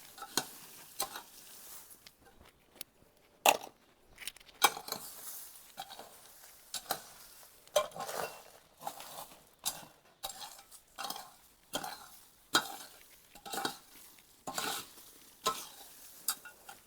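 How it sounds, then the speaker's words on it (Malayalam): Garden soil is mixed by hand, turned back and forth, giving repeated scraping, rustling bursts in a loose steady rhythm, close and moderately quiet. "ഇത് 2-3 പ്രാവശ്യം അങ്ങോട്ടും ഇങ്ങോട്ടും നമ്മൾ മണ്ണ് മിക്സ് ചെയ്യണം"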